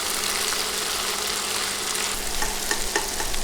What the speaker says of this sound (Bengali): এখন নেড়ে নেড়ে কিছুক্ষণ সব কিছু ভেজে নিব।